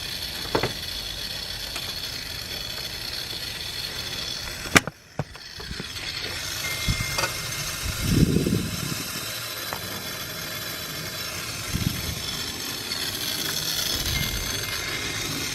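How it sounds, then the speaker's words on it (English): Compressed air at 60 psi hissing through cylinder 1 of an engine during a leak-down test: a steady, faint broadband hiss throughout, broken by a sharp click near five seconds and a few low mechanical thuds. "60 pounds of air going through cylinder 1"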